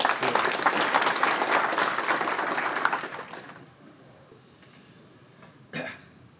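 An audience at an evening gathering applauds to welcome the World Uyghur Congress president onto the stage, a dense round of clapping that tapers off after about three seconds into quiet, followed by a single cough.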